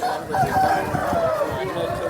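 A yellow rooster about a year old, weighing two to two and a half kilograms, crows at a Vijayawada rooster market, one drawn-out, falling call close by over steady crowd chatter and talking.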